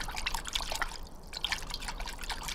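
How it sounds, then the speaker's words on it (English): Water drips and trickles softly and irregularly, faint and close, with no voices. "The men then showered them with water to wake them up."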